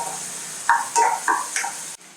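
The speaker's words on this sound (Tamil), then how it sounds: "இது எவ்வளோ நல்லா வதங்கணும்னா கொஞ்சம் லைட் ப்ரௌனாக ஆகிற வரைக்கும் வதங்கணும்." Onions sauté in a pan and are stirred toward light brown, with a low constant sizzle broken by four or five distinct scraping strokes of a spoon against the pan.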